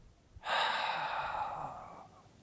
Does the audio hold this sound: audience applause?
no